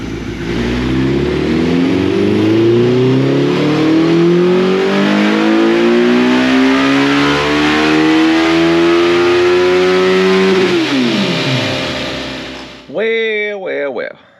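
A car engine fitted with Black Widow exhaust headers revs up loudly and holds a rising, raspy exhaust note for several seconds, then drops off; a brief crackle follows at the end.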